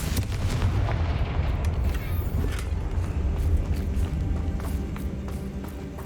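The Confringo fire-blast spell in Hogwarts Legacy goes off as a loud, continuous rumbling roar with scattered crackling bursts, close and sustained throughout, with no talking.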